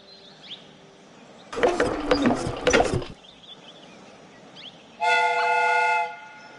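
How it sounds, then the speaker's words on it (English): A replica train's steam whistle in the Sherlock Holmes: Crimes and Punishments game gives one loud, steady blast lasting over a second. It comes after a short burst of mechanical clatter, and quieter background sound fills the gaps. "The steam whistle is ready to be used."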